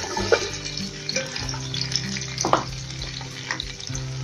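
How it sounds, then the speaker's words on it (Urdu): Chopped onions frying in hot oil in a deep cooking pot, a steady close crackling sizzle with occasional louder spits and stirring clinks, with no talking. "اب پیاز جب تک فرائی ہوتی ہے"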